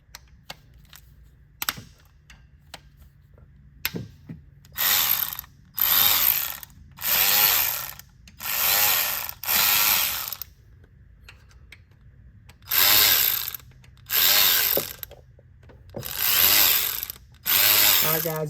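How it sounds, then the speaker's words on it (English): A power tool loosens bolts on a 3.6 Pentastar engine, running in repeated loud bursts of a second or so each with short gaps between, after a few sharp clicks and taps at the start. "before I start putting my power tools on it."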